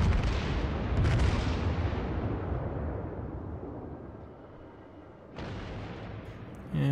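Heavy naval gun salvo from the British battleship HMS Warspite in World of Warships, a loud sustained roaring blast that slowly decays, followed by a second boom near the end.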